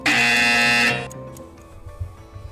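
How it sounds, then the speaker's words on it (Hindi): A quiz show team buzzer gives one loud, harsh electronic blare of about a second, then cuts off into a quieter room with faint low murmurs. "टीम ए ने बजर प्रेस किया है"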